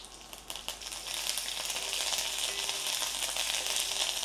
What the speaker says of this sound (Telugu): కరివేపాకు చిటపట అంటుంటే